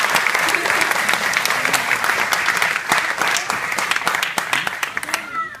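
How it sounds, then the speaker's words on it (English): Sustained audience applause at a Salvation Army social justice event, a full crowd clapping loudly and continuously with crisp nearby claps standing out, tapering off at the end. "So give them a round of applause"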